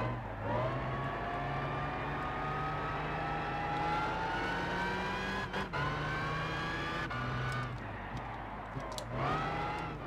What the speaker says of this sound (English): the supercharger in this car is just a whiny bitch